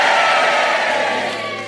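A studio audience on a radio confession show cheers together, a loud sustained wash of crowd noise and applause that slowly fades, with no talk over it.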